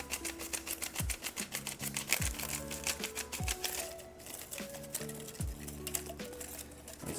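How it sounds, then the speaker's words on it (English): Photographic film being wound onto a ratcheting developing reel: bursts of rapid, close, dry clicks as the reel twists back and forth, with steady musical tones playing in the background. "you'd load the film up like this, pull it through, and this thing ratchets"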